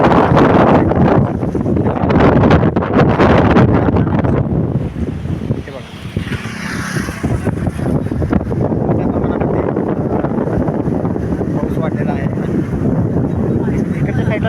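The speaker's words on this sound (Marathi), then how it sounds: "पाणी फिरत असते खाली पुलाला धडकते पाणी आणि त्यानंतर हे जाग्याला जाग्याला गोल फिरत आहे" Panchganga river floodwater in Kolhapur surges and swirls against a bridge, making a loud, continuous roar with gusts of wind buffeting the microphone throughout.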